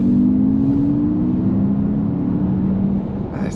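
An Alfa Romeo Junior electric compact car sweeps through corners with a steady, loud cabin hum and road rumble that eases slightly near the end.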